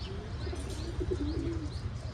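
Pigeons coo softly in low, throaty murmurs on a rooftop terrace, with light chirps and a faint flutter of wings nearby.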